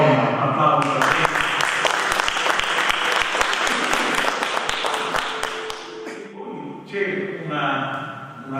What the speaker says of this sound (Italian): Carola Roma, un applauso a te.